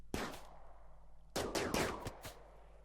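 Gunfire in the Rimworld video game, two short bursts of sharp rapid shots, the second burst longer with several cracks, loud and close against a low hum.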